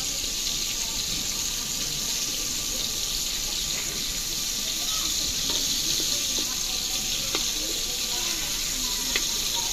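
Steady sizzling of prawns frying lightly in a pan, a continuous hissing crackle with occasional small pops and clinks, no talking.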